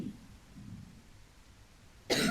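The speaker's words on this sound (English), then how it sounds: "Her lungs sound okay, but she does have a cough." A female character in a zombie video game gives a single short, sharp cough right at the end, after a couple of seconds of quiet low background hum.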